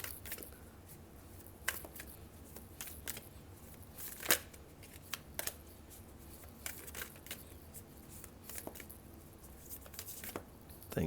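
Tarot cards are shuffled and drawn by hand, a quiet papery riffling with scattered soft slaps and snaps over a low background hiss, close and faint.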